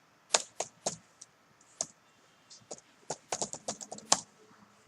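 Close, crisp keystrokes on a computer keyboard while writing C++ code, coming in quick irregular bursts with short pauses between them.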